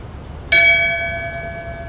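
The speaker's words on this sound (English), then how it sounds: "Would you please ring the bell in tribute and in memory for Deputy Cal Harris?" A single bell is struck once in tribute at a sheriff's office memorial for a deputy, giving a clear metallic clang whose bright tone rings on and slowly fades over a low background hush.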